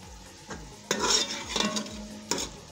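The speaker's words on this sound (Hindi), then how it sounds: "मसाले को भूनेंगे" A spoon scrapes and stirs masala with yogurt and Kashmiri red chili as it roasts in a pan, giving a soft sizzle under intermittent metallic clinks and scrapes against the pan.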